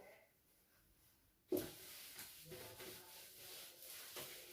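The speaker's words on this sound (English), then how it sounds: "let me rub the board" A classroom board being wiped clean, starting with a sudden swipe and then a steady, soft scrubbing hiss that goes on close by without speech.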